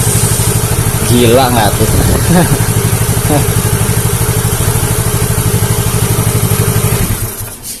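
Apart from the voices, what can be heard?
Yamaha Mio J scooter engine revving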